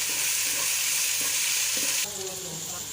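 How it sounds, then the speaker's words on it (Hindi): Spices such as chili flakes, turmeric and red chili are stirred into an egg mixture sizzling in a hot pan, giving a steady loud frying hiss with soft scraping strokes throughout. "अब मैं सब चीज़ों को अच्छे से मिक्स कर लूँगी।"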